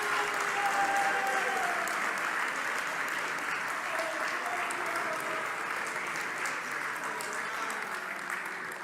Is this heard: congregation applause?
yes